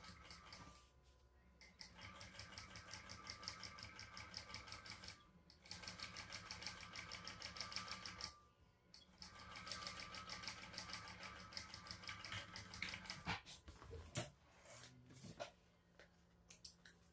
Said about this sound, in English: And we will top stitch across that raw edge.